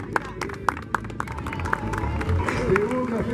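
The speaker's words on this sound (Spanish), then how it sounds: "Fuerte el aplauso para las chicas." A crowd applauds the girls at an interprovincial dirt bike drag racing championship in Pita Constanza. Scattered sharp claps ring out over a steady outdoor hubbub and crowd murmur.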